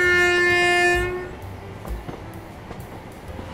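Train horn from a locomotive in Train Sim World 4, a loud sustained tone that cuts off after about a second, leaving quiet rail ambience with light clicks and knocks.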